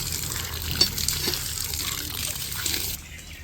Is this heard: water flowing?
yes